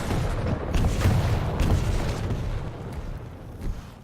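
Two big rocket explosions in an arena shooter duel, heavy low booms rolling into each other over a few seconds, fairly loud and dull with a rumbling tail.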